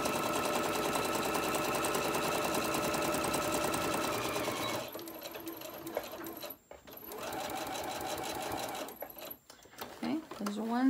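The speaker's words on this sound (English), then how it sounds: "You're going to get this all sewed down." A sewing machine stitches the seam of a lunch tote bag with sturdy interfacing, running loud and continuous with a whirring motor for several seconds, then stopping and starting in short bursts, with some talk mixed in.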